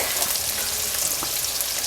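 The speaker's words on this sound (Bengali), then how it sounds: "ফুলকপি ভাজা হয়ে গেছে তুলে নিচ্ছি" Cauliflower pieces fry in hot oil with a steady, dense sizzle that stays close and even for the whole short stretch, with no voices.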